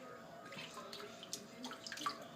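Water poured and splashed over a pet rabbit during a bath, light irregular splashes and trickles at close range, with faint background sounds and no speech.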